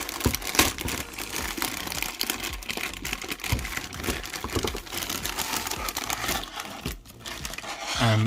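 Plastic bag crinkles and rustles up close as it is torn open around a bootleg Hulk action figure, a busy stream of crackling and scrunching with a couple of sharper rips.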